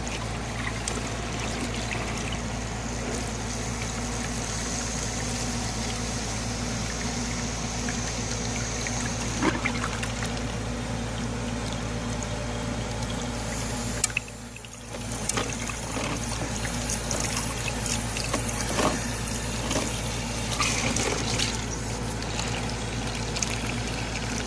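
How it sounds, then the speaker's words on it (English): Water runs and pours steadily through gold prospecting gear on a claim, a continuous close rushing wash with a few brief splashes and a short dip in the flow midway. "I'll go ahead and turn my water up a little bit too high here."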